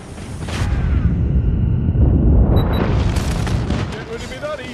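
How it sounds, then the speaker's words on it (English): Enemy airstrike explosions in a video game hardpoint match: a heavy, continuous booming rumble that swells loudly through the middle and tails off at the end, with a voice talking over it. "Enemy airstrike incoming."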